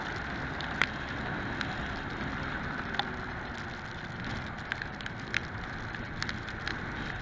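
Rain falls steadily around a courier riding a motorbike, a soft continuous hiss with scattered sharp drop ticks, fairly faint and with no voices.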